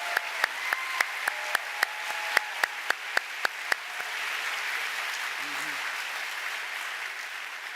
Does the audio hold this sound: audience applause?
yes